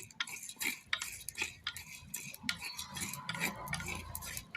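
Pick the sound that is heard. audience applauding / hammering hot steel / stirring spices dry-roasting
stirring spices dry-roasting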